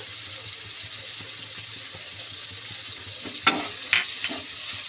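Masala gravy for a paneer dish sizzles steadily in a pan as a spatula scrapes through it in a regular rhythm, followed by a brief splash of spiced water poured in near the end; no one speaks.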